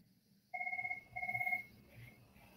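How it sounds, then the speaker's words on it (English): A telephone rings with two bright electronic trill bursts separated by a short pause, clear and fairly close against a quiet background. "The ring of the phone is there."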